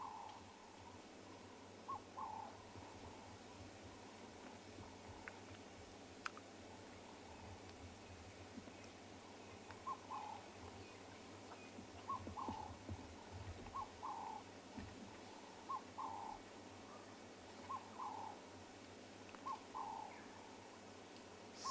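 Birds calling in the South African bush during a morning safari: short, repeated chirping calls come at intervals over a steady, quiet outdoor background hum, distant and faint.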